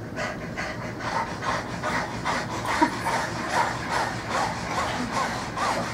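A person performs a tongue-out panting breathing exercise, imitating a dog, with rapid rhythmic breaths repeating steadily and evenly, close and moderately loud throughout.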